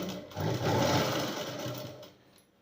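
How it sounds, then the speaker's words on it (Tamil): Sewing machine running a continuous line of stitches along the side seam of a blouse, a steady close mechanical whir for about two seconds that slows and fades at the end. "இப்போ நம்ம இது மேலேயே கரெக்டாக ஒரு ஸ்டிச்சஸ் போடலாம்."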